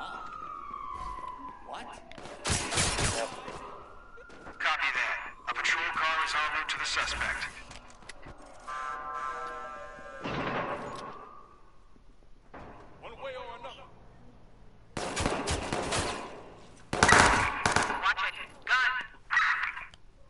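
Gunfire and sirens from the video game Watch Dogs 2 come in several loud, dense broadband bursts between quieter stretches, with a rising siren-like tone early on and a person talking over the game sound.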